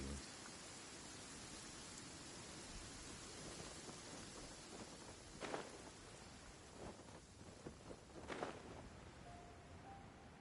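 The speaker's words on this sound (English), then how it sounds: "This heavy rain must be quite an inconvenience for you." Heavy rain falling in the Genshin Impact video game, a steady dense hiss of downpour throughout, with a couple of brief louder splashes near the end.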